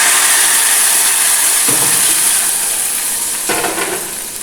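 Spices tempering for intestine curry (kudal kuzhambu) give a loud, continuous sizzle and hiss in a pan, with a couple of brief surges as more goes in, then easing slightly toward the end.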